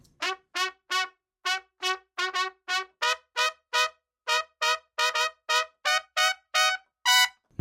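Trumpets in a vintage-style mix of a song, panned slightly apart and run through a 610 preamp, blasting a fast string of short, bright staccato stabs in a steady driving rhythm, loud and alone.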